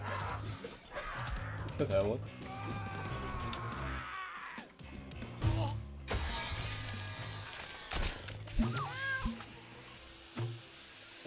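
A cat in a video game meows repeatedly in drawn-out, wavering calls, mixed with game effects and thuds, while someone talks over much of it.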